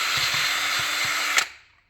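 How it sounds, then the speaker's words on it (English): A power drill whirs steadily through car plastic during a repair, a continuous near motor whine with faint knocks underneath, then it stops abruptly and the sound fades to silence. "So first we're going to drill here."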